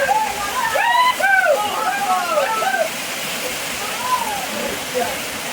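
Heavy rain pours down in a dense, steady roar of water close by. Early on, a voice and some chirping, whistle-like tones rise above the downpour.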